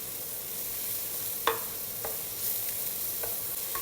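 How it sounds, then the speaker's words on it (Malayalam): Spinach sautéing in ghee in a pan gives a steady broadband sizzle, with a few sharp clicks of stirring utensils against the pan and no voices. "ഒരു 5 മിനിറ്റ് നേരം ഇതിങ്ങനെ വഴറ്റിയെടുക്കണം."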